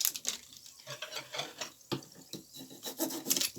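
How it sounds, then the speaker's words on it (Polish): A knife cuts through a smoked egg in a series of quiet, close rasping and scraping strokes, uneven in rhythm, with faint rubbing and no talk. "Kroimy jajko."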